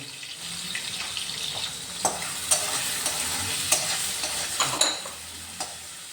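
Crushed garlic and shrimp frying in a pan for a taro stolon dish, a soft steady sizzle with scattered sharp clinks of a utensil stirring, close and without talk.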